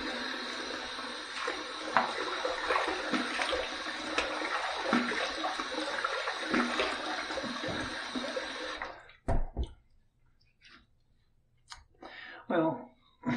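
Tap water runs steadily and fairly close for about nine seconds while the face is wetted before a shave, then cuts off, leaving a few faint splashes and handling noises.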